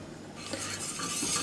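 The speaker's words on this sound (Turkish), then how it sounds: "Unun kokusu çıkana kadar kavuruyorum." Flour roasting in oil in a pot while a utensil stirs it, a close scraping and clinking rhythm over a faint sizzle, with no voices.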